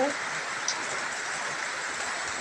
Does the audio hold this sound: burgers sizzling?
no